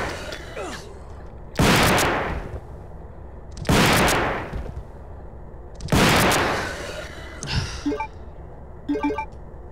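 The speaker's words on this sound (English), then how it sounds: "This shotgun makes a really odd noise in my emulator." Three loud shotgun blasts from the Resident Evil video game, played through an emulator, boom at roughly even intervals, each with a decaying tail, followed by fainter clicks and clatter.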